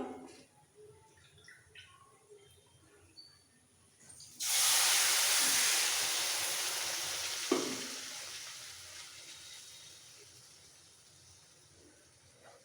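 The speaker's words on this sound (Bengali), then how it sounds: "কাপের মাপে তিন কাপ জল দেব উষ্ণ গরম জল" Warm water poured into semolina in a hot pan for upma bursts into a loud, sudden hissing sizzle that slowly fades, with a single clink midway.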